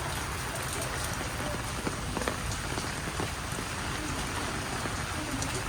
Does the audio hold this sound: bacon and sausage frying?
no